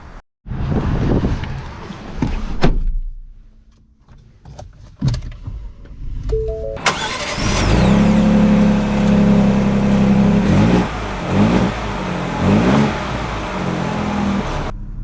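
Ford Ranger XLT with a 2.7L V6 fires up after a few quiet handling clicks and settles into a loud, steady engine note that swells as the truck pulls away, with faint rattles along the way.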